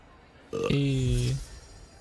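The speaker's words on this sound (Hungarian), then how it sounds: "már böfög" A game character in Hogwarts Legacy lets out a single long, loud, croaking burp lasting under a second.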